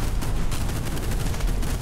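Rockets fired in the naval wargame Fortress Assault, a rapid volley of loud, overlapping booming launches and blasts with dense rumbling, sustained throughout and without talk.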